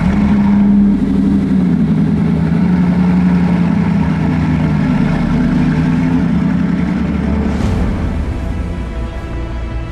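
A Bugatti Chiron Super Sport's 1600 hp W16 engine runs with a steady, deep droning hum at close range, holding a near-constant note throughout with only slight shifts in pitch.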